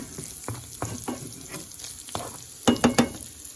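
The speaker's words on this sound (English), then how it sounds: "I'm just going to let them brown a little more." Shrimp sizzle and pop as they brown in a frying pan, with a steady hiss under repeated stirring scrapes and a quick burst of louder clatter near the end.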